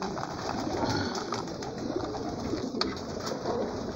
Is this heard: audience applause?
no